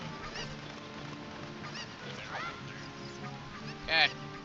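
Cucco chickens cluck and squawk in the video game Majora's Mask, several short calls spread over a quiet game background, ending with one louder, sharper squawk near the close.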